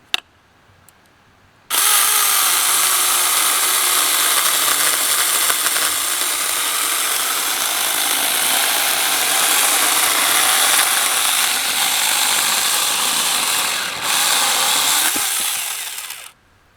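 A Saker mini electric chainsaw runs at full power while cutting, its high whining buzz close and loud, starting abruptly and holding steady for about fifteen seconds before winding down.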